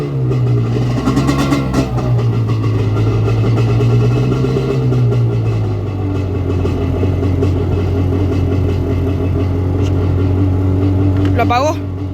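A Yamaha Wave Venture jet ski engine runs loud and close, holding a steady drone with slight swells in pitch, while people talk over it.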